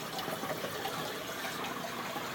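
Water pours steadily through the overflow of a 75-gallon aquarium, a continuous soft gurgling rush at low level with no pauses and no voices.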